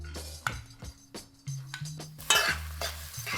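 Onions drop into hot oil in a pot for a Guinness goat stew and sizzle, with repeated clanks and scrapes of a spoon against the metal pot and a louder burst of frying near the end. No one speaks.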